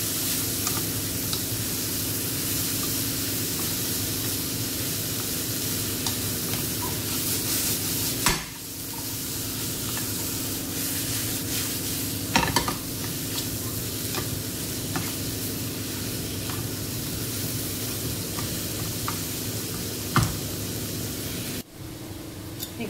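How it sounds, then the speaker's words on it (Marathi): Mixed vegetables sauté in a pan for spinach rice, a continuous close hissing sizzle with a steady low hum beneath and occasional sharp clicks of a spoon against the pan. "दोन 3 मिनिटांसाठी असंच परतून घ्यायचे आहेत आपल्याला"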